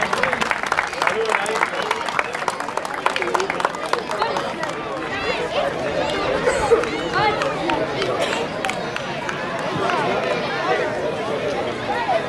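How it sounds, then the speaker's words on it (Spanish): Audience applause at a children's football league awards night hosted by a sports club, dense clapping from a large crowd with cheering and chatter mixed in, loud and sustained throughout. "Un fuerte aplauso también entrega el representante del Sportivo Club Sacanta"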